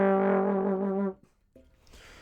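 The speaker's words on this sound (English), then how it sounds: "I'm doing a little bit of a growl in there." Trombone played without a plunger, holding one loud growled note from the back of the throat for about a second, then a brief softer tone and breathy noise afterward.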